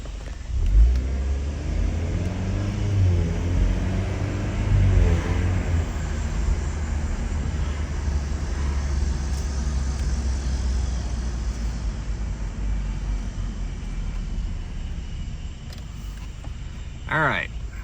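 A Cadillac CT4-V engine, heard from inside the car with the windows down, revs up and holds against the rev limiter, a deep droning rumble with rising and falling pitch sweeps, loud and steady, ending with a few clicks.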